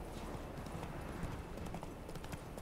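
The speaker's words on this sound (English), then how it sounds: "Hey, my horse is doing a wheelie." Horse hooves clip-clop at a steady trot in The Witcher 3, a continuous, fairly faint rhythm of hoof strikes on the ground with no talking.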